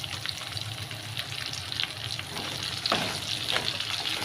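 Onions and capsicum frying in a pan, a steady loud sizzle throughout with occasional scraping stir sounds and a brief watery hiss, with no voices.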